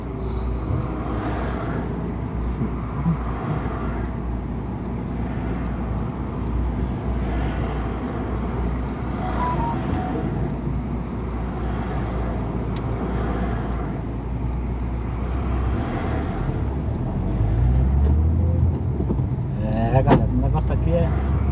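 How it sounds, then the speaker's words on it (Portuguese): Cars pass along a busy beachfront road in Sergipe, a continuous low rumble of traffic heard close by with wind buffeting the microphone and a louder vehicle passing near the end. "Muito carro aqui, viu, galera?"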